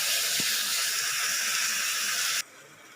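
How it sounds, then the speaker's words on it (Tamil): Ingredients for potato pulao fry in a pan with a steady, broad hiss that stops abruptly near the end, moderately loud and close. "இது இப்போ நல்லா ஃப்ரை ஆகட்டுங்க"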